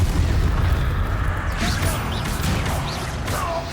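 Fiery spell blasts from the Confringo curse in the Hogwarts Legacy video game, loud and continuous with booming low rumble, crackling bursts and swooshing effects layered through a dense battle soundscape, no talking.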